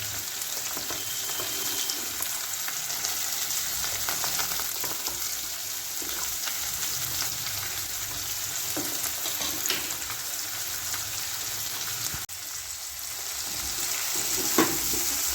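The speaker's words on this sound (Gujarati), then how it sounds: "ડુંગળી જ્યાં સુધી ગુલાબી ન થઈ જાય ત્યાં સુધી એમને સાતળવાની છે." Four medium-small onions sautéing in oil in a pan until pink for dal fry, a continuous dense sizzle with occasional stirring scrapes, close and steady.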